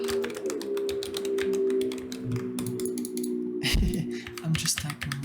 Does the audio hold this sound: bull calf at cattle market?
no